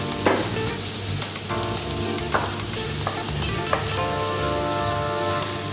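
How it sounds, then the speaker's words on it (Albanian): Julienned chicken, carrot and celery fry in a hot pan, a loud, dense, continuous sizzle close up, with occasional sharper crackles and stirring clatter, no voices. "shtojmë mishin, shtojmë karotën, selinon, pasi janë më të fortë se speci për të skuqur"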